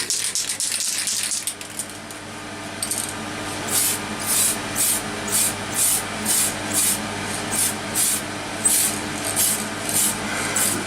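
Tamiya PS anodized spray paint hisses onto a Manta Ray RC car body in a rhythmic series of about ten short, close bursts, following a brief stretch of rubbing and handling noise, with no talking.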